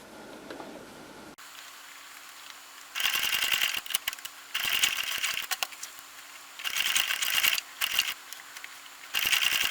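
A machine stitches fabric for a kitchen scarf in several rapid, rattling bursts, each lasting about a second, separated by brief quiet gaps, heard up close.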